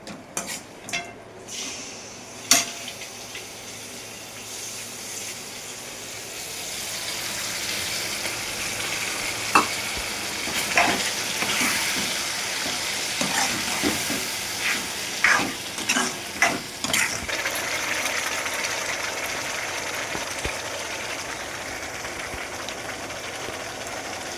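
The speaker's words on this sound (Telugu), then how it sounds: "ఇప్పుడు ఈ పులుసు మరుగుతుంది కదండి" Tamarind broth with asafoetida bubbling in a pan, a steady simmering hiss with scattered clinks and utensil knocks over about twenty seconds, close and without voices.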